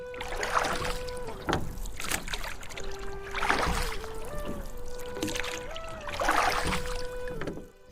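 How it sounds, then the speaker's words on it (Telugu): Water sloshes and laps against a boat in slow, rolling swells, with a steady humming tone running underneath. "పడవ ప్రక్కని కలకలమంటూ రాసుకుంటోంది"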